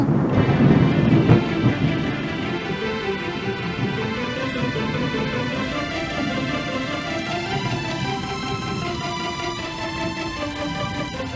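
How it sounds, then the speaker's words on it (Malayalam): A deep roll of thunder rumbles at the start, then steady rain hisses on while a tonal melody plays underneath. "അയ്യോ, മഴ വരുന്നു."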